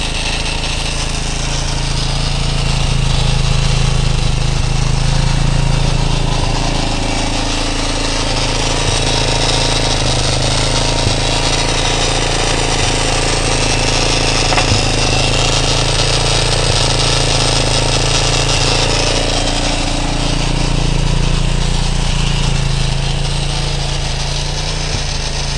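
A motorcycle with a Ctx200 frame and a swapped-in 230 engine idles steadily and loudly up close, a continuous engine drone whose level rises and falls slightly.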